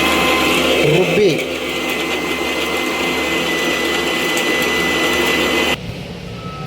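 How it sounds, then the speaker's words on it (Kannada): Electric mixer grinder whirring steadily as it grinds ginger, garlic, cinnamon and cloves with oil, a loud continuous motor drone that stops abruptly near the end. "ರುಬ್ಬಿ."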